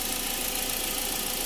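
The engine of a 2021 Wuling Confero S 1.5 Type C Lux manual idles just after starting, a steady, close, even hum with no voices.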